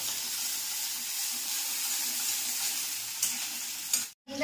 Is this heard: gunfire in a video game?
no